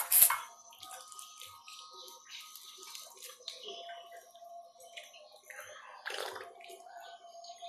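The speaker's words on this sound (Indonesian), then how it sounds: "Cuci tangan dulu" Tap water runs steadily while hands are washed in a home kitchen, a thin hissing stream with small splashes and a brief louder gush near the start, close by and without talk.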